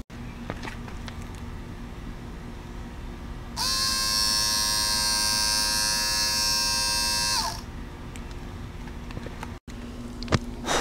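A small solar-powered hobby DC motor whirs with a steady high-pitched electric whine for about four seconds, starting and stopping abruptly over faint background noise, close to the microphone.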